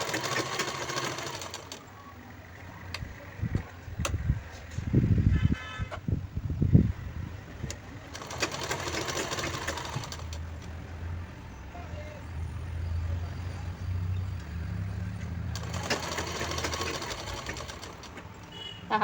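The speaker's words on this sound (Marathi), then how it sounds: "एकदम हलक्या हाताने शिलाई मारायची." A sewing machine stitches fabric for a peplum top in bursts of fast mechanical whirring, with pauses and handling noises between runs.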